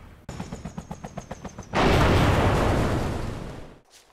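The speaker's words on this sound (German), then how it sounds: "Für Soundfans gibt's mit der WOP-Sound-Mod überarbeitete Klänge, unter anderem für viele Waffen und für Explosionen" In a video game with a sound mod, a rapid burst of about ten sharp gunshots, then a heavy booming explosion that rumbles and slowly fades, all loud and close.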